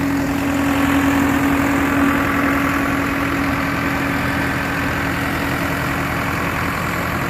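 A 2009 New Holland T5060 tractor engine idles steadily up close, a loud, constant low rumble with a faint hum on top and no talking.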